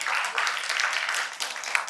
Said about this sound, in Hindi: मुझे भी तालियां बहुत अच्छी लगती हैं